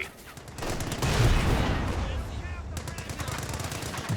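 A phosphorus barrage fires in Company of Heroes 2 during a 2v2 match, dense rolling bursts of gunfire and muffled impacts building into a loud sustained clatter, with faint voices underneath.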